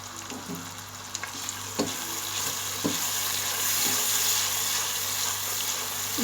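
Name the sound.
stirring and frying spices with tomato, onion and ground cumin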